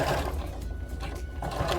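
Close, continuous whir of a sewing machine stitching a lined patch pocket in fabric, steady and unbroken for the whole short stretch with no talk.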